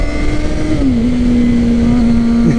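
A sport motorcycle engine drones loudly and steadily while riding, its pitch dipping slightly midway and then holding level, with wind rush underneath and no speech.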